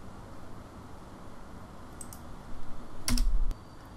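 Code being typed on a computer keyboard in Android Studio, a short, fairly soft burst of keystrokes near the end over a quiet room hiss, with no voice.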